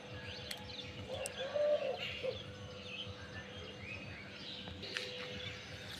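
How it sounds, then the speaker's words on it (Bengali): Doves cooing outdoors on a foggy morning, soft repeated coos mixed with a few chirps from other birds, moderately distant over quiet background ambience with no talking. "ঘুঘু পাখি আছে"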